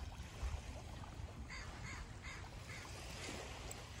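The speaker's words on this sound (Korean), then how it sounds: "웬 새들이 이렇게 많냐" Many birds caw and honk at a beach on a clear winter day, several calls clustered in the middle, faint and distant over a steady wash of surf and wind.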